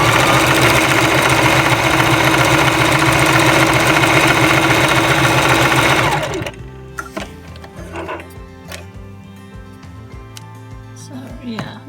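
A sewing machine stitching a felt fursuit tail belt loop runs loud and steady for about six seconds, then stops, leaving faint handling clicks and rustles.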